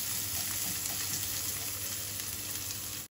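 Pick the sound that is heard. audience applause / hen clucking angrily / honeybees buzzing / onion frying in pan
onion frying in pan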